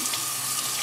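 Running tap water pours steadily as Surge milker parts are washed in a sink, a close, loud, continuous splashing hiss with no speech.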